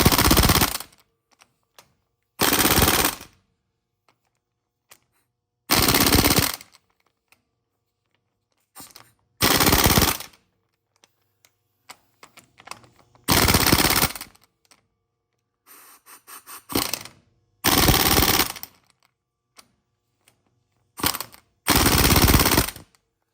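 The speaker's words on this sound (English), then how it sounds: "I'm going to go ahead and hit them all with the torque stick" An impact wrench fitted with a torque stick hammers the wheel lug nuts of a 2003 Ford F350 in eight loud, close bursts of about one to two seconds each, separated by quiet pauses.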